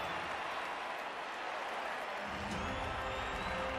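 Crowd cheering and applause roar after a touchdown in the Blood Bowl II fantasy football video game, a dense continuous wash of stadium noise that swells slightly toward the end.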